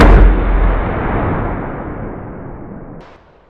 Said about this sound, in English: Fire 3 rounds at the 50.